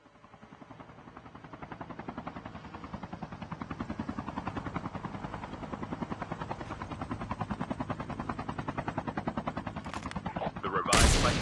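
Call of Duty helicopter with its fast, steady rotor chop under bursts of gunfire, loud and continuous, ending in a sharp blast near the end.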